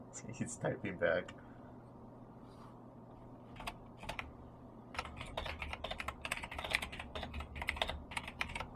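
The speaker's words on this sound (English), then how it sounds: "He's typing back." Computer keyboard typing in bursts of quick, light key clicks, fairly close, with a steadier run of keystrokes through the second half and a brief voice near the start.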